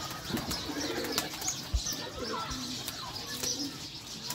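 Teddy breed pigeons cooing softly, with a few brief bursts of wing flapping over steady outdoor background noise.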